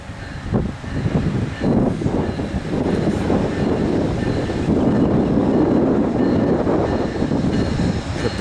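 Amtrak P42DC locomotive number 116 hauling a passenger train near Thomasville at about 25 mph, a close, steady rolling rumble of wheels and cars with wind noise on the microphone.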